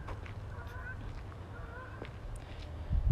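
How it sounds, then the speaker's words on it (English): Faint honking of geese in the distance, a few scattered calls over low outdoor background noise. "Those are geese too."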